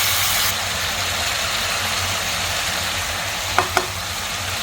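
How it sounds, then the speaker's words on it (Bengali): Potatoes and garlic fry in hot oil with a steady hiss, which settles slightly after the first half-second, and two quick utensil knocks come near the end. "একসাথে আমি সব ভেজে নিব তেলের মধ্যে"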